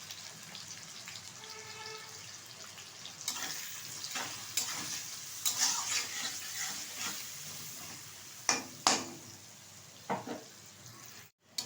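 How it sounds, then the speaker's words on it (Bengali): Chopped onions with turmeric powder frying in a pan, a soft sizzle broken by stirring scrapes and a few sharper clatters of the spoon, close and fairly quiet with no talking. "পেঁয়াজটা কিন্তু ভালোভাবে ভেজে নিতে হবে।"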